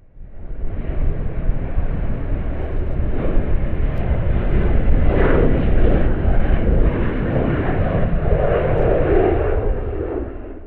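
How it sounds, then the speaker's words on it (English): A colourful Boeing 737-400 jet airliner at Calgary International Airport, its engines roaring loud and steady for about ten seconds with a broad rumble and no talk. "this very colorful 737-400 from Nullinor Aviation operated a couple flights for Flair"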